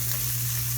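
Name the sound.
fish cutlet mixture frying in a pan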